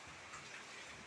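Rain patters steadily on a 35-year-old leaking house, a soft, even hiss of drops with no voices.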